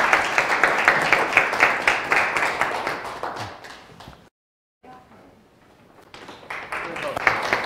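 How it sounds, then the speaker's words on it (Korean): An audience claps and applauds after a talk on Bitcoin and deglobalization, loud and steady at first, then fading out and briefly stopping before the clapping swells up again. "다시 한 번만 박수 부탁드립니다"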